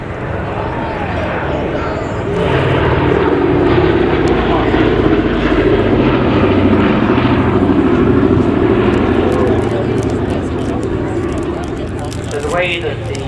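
A B-17 Flying Fortress bomber flying at the Midlands Air Festival, its four piston engines droning loud and steady as it passes, with announcer commentary over the engines.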